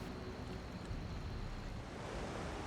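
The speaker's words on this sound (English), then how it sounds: "Close to Merchant's Gate, the mountains rise high, allowing water to fall down with force from many angles." A forceful waterfall in Elder Scrolls Online pours down from high mountain cliffs, a steady broad rushing roar of water with no voices.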